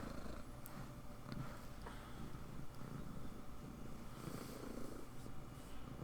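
A pet cat purrs while being petted, a soft, low, steady rumble heard close up with faint rustling and no talking.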